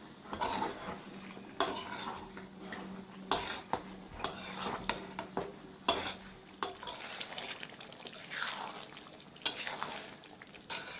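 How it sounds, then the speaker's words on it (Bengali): Almond paste and sour yogurt are stirred in a pot over low heat for chicken korma, a quiet scraping and clinking of a spoon against metal repeating in an uneven rhythm over a soft sizzle. "ভালোভাবে নাড়াচাড়া করে যেতে হবে কম আঁচে।"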